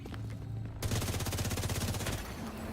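Rapid, continuous machine gun fire from a hostile automated turret in the game The Division 2, a fast even rattle of close shots starting abruptly and running for nearly two seconds.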